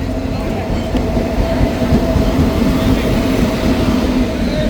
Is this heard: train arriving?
yes